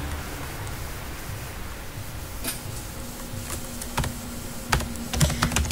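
Computer keyboard typing while a folder name is entered for a thesis Google Drive folder, with scattered key clicks at first and then a quicker cluster of louder keystrokes toward the end over a steady background hiss.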